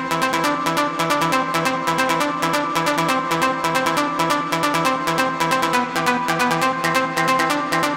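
A layered trance synth pattern built with a Roland JV-1080 preset, a steady looping sequence of bright plucked notes over a sustained chordal pad, even and loud throughout.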